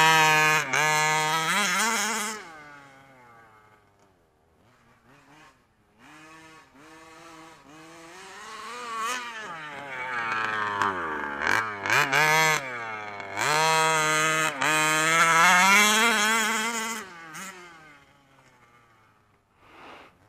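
A 29cc SCZ reed-case two-stroke engine runs loud and close, revving up and down repeatedly with a buzzing, chainsaw-like rasp that rises in pitch on each throttle burst and drops back near idle between them.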